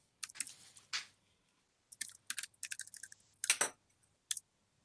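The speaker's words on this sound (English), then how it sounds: "I can hear you typing." Someone types on a computer keyboard during an online seminar call, with scattered bursts of close, quiet key clicks separated by short silences.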